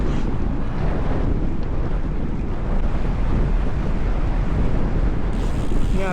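Steady, loud wind buffeting the microphone during an open-air ride, a continuous rushing roar that fills the whole stretch with no breaks and no voices.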